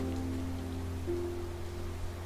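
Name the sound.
rain falling in Genshin Impact video game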